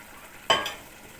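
Boiled paya hits a hot pan of masala and coconut with one sudden sizzle and scrape of stirring, then the frying fades to a quiet hiss.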